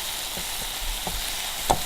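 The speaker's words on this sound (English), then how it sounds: "It's all cooking with Worcester sauce and the steak's own natural juices." London broil steak sizzling in a pan in Worcestershire sauce and its own juices with no oil, a steady close hiss with a few faint taps and one sharper crackle near the end, no voices.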